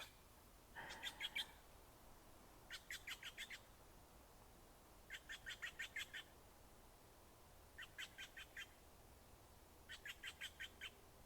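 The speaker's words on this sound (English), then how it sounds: "The birds going off around here." Birds call outdoors after rain, giving five separate bursts of rapid, high, chattering notes spaced a couple of seconds apart. The calls are fairly faint over a quiet background hiss.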